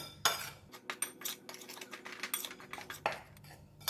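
Curry, pepper and fennel seed powders being mixed with flour in a bowl, a quick run of close spoon clinks and scrapes against the bowl at an uneven rhythm, quiet otherwise.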